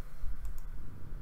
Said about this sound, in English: I can hear you clicking.